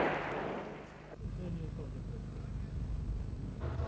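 A firearm fires at a 5 mm armor plate, steel witness plates and a minibus, producing a heavy boom that drops into a low rumbling echo, followed by a second thump, heard at a distance outdoors.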